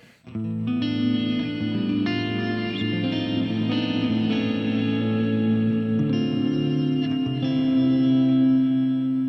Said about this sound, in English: you hear your dry sound first, followed by the reverb tail 300 milliseconds later